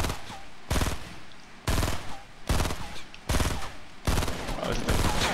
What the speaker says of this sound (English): Right when he comes down this tree, I'm shooting him.